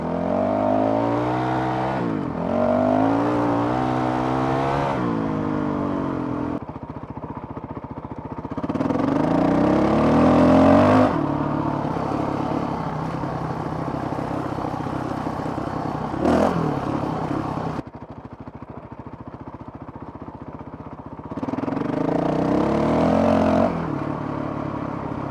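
A Honda CRF 450 RL motorcycle engine revs up repeatedly in loud, close bursts, rising in pitch with each acceleration and settling back to a lower drone between pulls.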